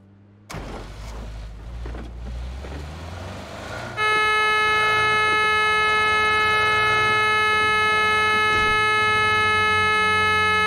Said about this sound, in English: Don't you honk your horn at me